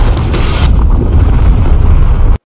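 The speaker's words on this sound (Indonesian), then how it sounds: "sebuah tembakan roket pun dilesahkan persis menghantam kamar" A rocket strike hits a room in a war film, a loud, deep boom with rumbling blast noise that fills the short moment and then cuts off abruptly.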